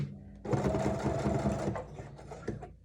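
A sewing machine stitches over paper snippets, going back over a seam to backstitch; a close, steady mechanical whir runs for about two seconds after a brief quiet start.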